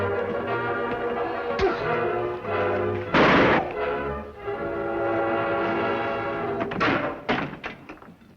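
In a radio western drama, a gunshot is fired by Cavendish after a door is kicked open. It comes as a sharp, loud crack among thumps and knocking sounds.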